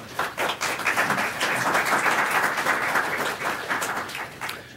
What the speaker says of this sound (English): It's not often we have applause at one of these press conferences.